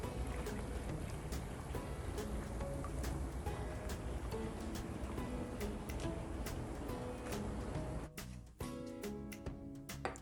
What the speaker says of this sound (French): Ici, je prélève l'eau du bassin.